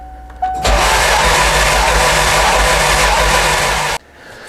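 A Ford 2.3L EcoBoost engine swapped into a 1979 Mustang fires up after a faint start. It roars loudly and steadily for about three seconds, close to the microphone, then cuts off abruptly into quiet.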